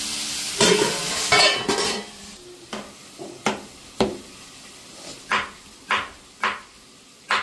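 Sliced okra frying in a pan while a spoon stirs it, a soft sizzle broken by a series of sharp, regular scraping knocks against the metal, close and clear.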